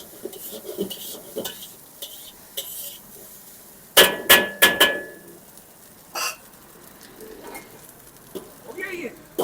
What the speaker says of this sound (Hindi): ये फ्राई हो गए जी, ये इतनी देर में ही होते हैं।